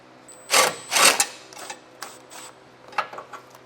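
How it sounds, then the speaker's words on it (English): A ratchet and tools work 10mm bolts on a vehicle front for an EcoHitch hidden front-mount hitch receiver install, two loud whirring bursts followed by softer clicks and metallic taps, close and without talk. "there's going to be 2 10mm bolts on either side we're going to have to remove"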